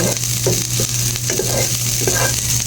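Vegetables sauté in a pan for ginisang gulay, a constant close sizzle with a few stirring scrapes and a low steady hum underneath.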